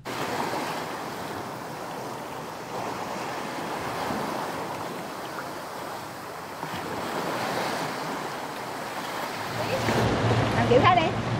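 Gentle sea waves wash onto a beach on Con Dao, a steady soft surf hiss with low rolling swells, steady and moderately close, while wind buffets the microphone and grows louder near the end.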